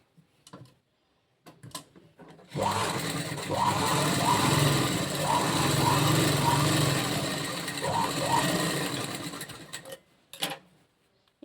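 A sewing machine runs in one continuous stretch as it stitches a blouse lining, with a steady close whirring and rapid ticking that rises and falls slightly, framed by a few brief clicks and handling taps before and after.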